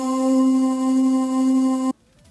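Sampled synth note holding steady with a delayed LFO oscillation that starts after a short pre-delay, one sustained tone for about two seconds before cutting off abruptly.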